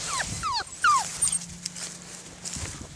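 Young puppies whimpering and yipping, several short high-pitched whines clustered early, then quieter, near and close to the listener, with a low hum running underneath.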